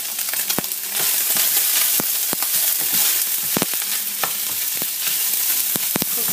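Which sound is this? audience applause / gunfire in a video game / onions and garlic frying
onions and garlic frying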